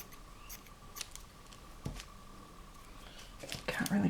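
Scissors snipping through book pages and magazine paper for journal cards, a few crisp close cuts spaced apart, with a rustle of paper near the end and no talking.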